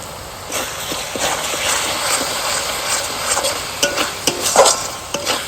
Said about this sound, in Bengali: এবার একটুখানি সময় নিয়ে আস্তে আস্তে মশলাটা কষিয়ে দিতে হবে